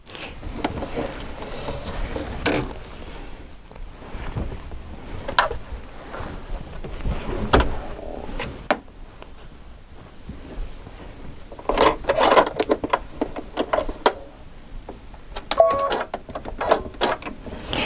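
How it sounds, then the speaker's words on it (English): A sewing machine stitching a fancy binding from side to side, with irregular mechanical clicks and short bursts of rattling needle action, fairly quiet and close, with pauses between runs. "I'm going to sew from side to side"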